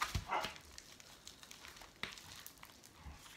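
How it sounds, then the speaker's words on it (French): A dog gives a few faint, short barks, a quick pair at the start and another about two seconds later, somewhere indoors against a quiet background. "Désolée si vous entendez aboyer"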